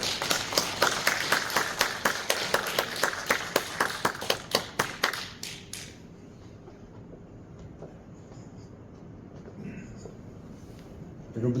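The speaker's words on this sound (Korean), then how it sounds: "큰 박수로 환영해 주시기 바랍니다" A roomful of people at a seminar claps in a steady rhythm for several seconds, welcoming a speaker, then the applause stops, leaving quiet room tone and a faint voice.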